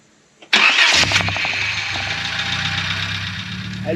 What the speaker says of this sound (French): j'ai fait tourner le moteur un peu pour le faire chauffer